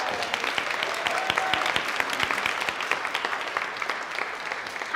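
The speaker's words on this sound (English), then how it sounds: "Can we give Rua a round of applause?" A crowd claps steadily for several seconds, a dense patter of many hands, fairly close and loud, with no talking over it.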